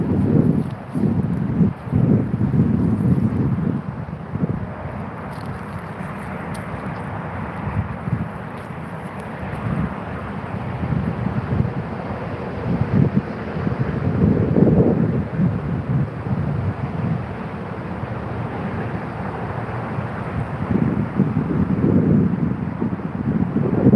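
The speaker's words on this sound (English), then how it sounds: "if this wind doesn't let up" Strong wind blows steadily outdoors, a loud broadband rush with gusty surges and buffeting against the microphone throughout, no voices.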